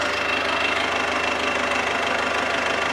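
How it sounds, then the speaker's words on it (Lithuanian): An engine idles as it warms up, a loud, steady, even rumble with a slight knocking pulse that runs throughout without a break. "Padirba, tegu sušyla variklis."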